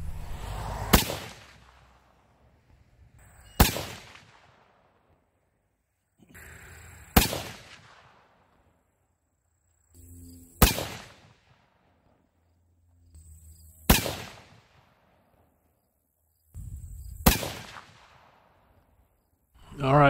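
Six loud, sharp 30-06 rifle reports, firing 175 grain Terminal Ascent bullets over Reloder 23 powder, spaced roughly three seconds apart, each a sudden crack with a brief decaying echo and quiet gaps between.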